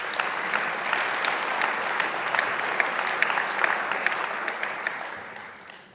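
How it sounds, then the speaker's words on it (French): An audience applauds at the 2018 New Year's greetings ceremony of the town of Le Perreux-sur-Marne. The clapping is dense and sustained, a steady wash of many hands that fades near the end. "Et je vous remercie de l'applaudir."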